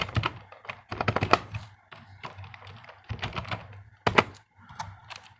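Python code being typed on a computer keyboard: close, irregular bursts of key clicks and taps, some quick runs and some single presses, with short pauses between.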